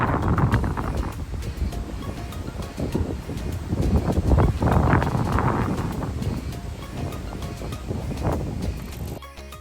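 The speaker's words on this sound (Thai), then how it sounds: "ลมแรงมากเลยค่ะวันนี้" Strong wind buffeting the microphone while cycling through countryside near Jois, Burgenland, Austria, a loud continuous roar with surging gusts throughout and no talk.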